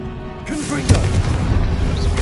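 Confringo, the blasting spell in Hogwarts Legacy, goes off as a heavy booming explosion that lands about a second in, followed by a rumbling, crackling tail and a brief rising whoosh near the end.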